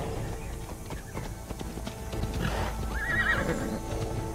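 Horse in the video game Immortals Fenyx Rising neighing over the steady clip-clop of galloping hooves, loud and close against a busy game soundscape, with a whinny rising near the end.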